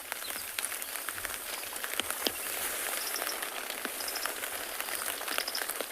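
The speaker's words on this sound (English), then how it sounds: "Oh, the rain is definitely picking up again." Rain on a roof at a safari lodge at sunrise, a steady, fairly loud hiss of drops with scattered sharper taps, and faint bird chirps now and then.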